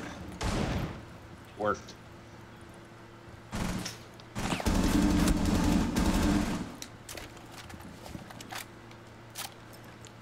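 Covering gunfire in a shooter video game comes as scattered bursts of rapid shots, with one longer sustained volley in the middle, heard up close alongside players chatting over voice comms.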